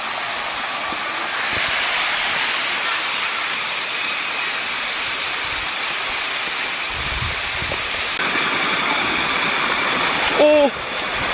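A waterfall near Chiang Mai, Thailand, rushes in a loud, steady broadband roar close by, with brief thumps and a short exclamation near the end.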